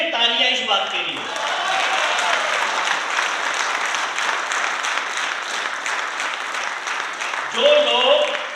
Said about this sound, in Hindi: तालियां इस बात के लिए।